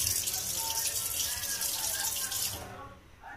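Water runs steadily from a tap at a home birthday gathering, a constant hiss that shifts and cuts off near the end, with faint voices in the background.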